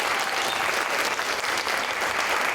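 An audience claps for jazz students at a school arts performance, steady dense applause from a seated crowd throughout, fairly loud and even.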